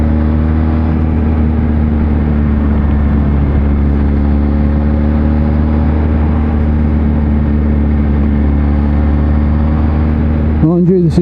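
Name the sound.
Kawasaki Z H2 motorcycle riding on road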